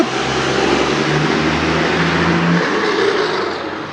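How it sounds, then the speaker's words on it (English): A very large truck drives by nearby with a loud, steady engine roar and rumbling tire noise that holds for a few seconds, then eases slightly as it moves away. "just a very large truck driving by"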